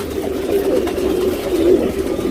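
Pigeons coo steadily at close range, low throaty calls overlapping in a continuous murmur from more than one bird.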